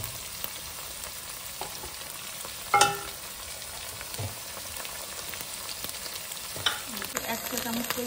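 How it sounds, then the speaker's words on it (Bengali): Ginger garlic paste fries in a pan for Bangladeshi shahi chicken pulao, a soft continuous sizzle broken by a few sharp clinks and scrapes of a spoon stirring against the metal. "এক টেবিল চামচ পরিমাণে আদা রসুনের পেস্ট, সবগুলো বেশ ভালো করে কষিয়ে নেব"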